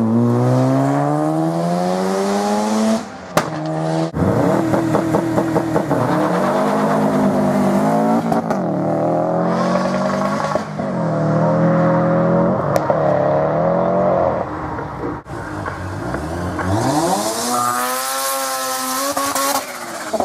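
A hillclimb race car launches and climbs the Mt Alma Mile, its engine screaming loud and close through rising revs and sharp gear changes, with a pause and then repeated climbing pulls.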